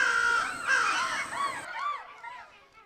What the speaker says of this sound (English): I can't even scare a crow.